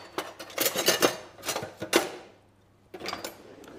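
Metal cutlery clatters and rattles in a kitchen drawer as a knife is fetched, several bursts of jangling close by, a short pause, then a final rattle.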